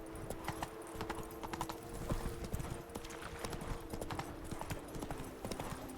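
The horse Roach's hooves clip-clop steadily and continuously in The Witcher 3: Wild Hunt, a close, even trotting rhythm with faint background game ambience.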